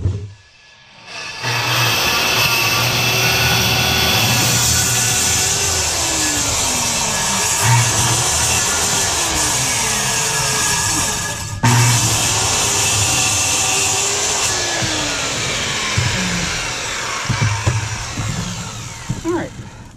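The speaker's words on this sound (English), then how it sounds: "you want to cut up the middle of the stud. Don't use a blade you like," A power saw cuts up the middle of a roof stud with a loud continuous whine close by, pitch dipping as the blade bogs in the wood, then easing off near the end.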